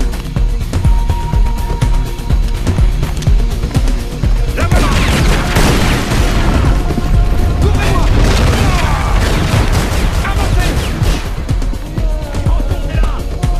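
Enemy gunfire in the Bolivia level of Tomb Raider Legend: dense, continuous booming shots and fusillade bursts crowd the whole stretch, growing heavier midway, with game sound underneath.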